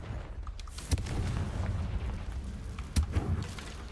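Confringo spell explosions in the Hogwarts Legacy video game, two sharp booming blasts about two seconds apart over a low rumbling background, with a few smaller pops after the second.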